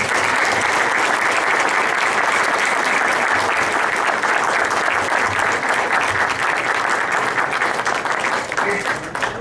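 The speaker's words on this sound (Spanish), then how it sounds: "pidiendo un aplauso, pero un aplauso duro, fuerte, que se oiga" Loud, sustained applause from an audience at a literary talk fills the space, dense steady clapping carrying on without a break for several seconds.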